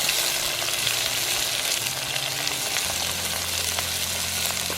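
Chopped onions and curry leaves fry in oil for a pork curry, giving a close, steady sizzle with hissing crackle and light stirring throughout and no voices.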